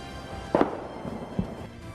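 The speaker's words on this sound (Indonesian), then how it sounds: "sebuah tembakan musuh langsung bersarang di tubuh Matthew." Two sharp bangs like gunshots, the first louder than the second, rather faint and somewhat distant.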